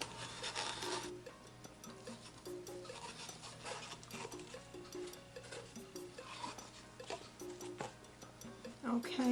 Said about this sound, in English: I'm just scraping the rest of the resin out of these big cups.